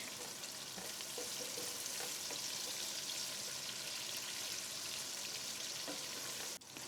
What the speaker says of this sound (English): Then add the chopped onions and fry for a minute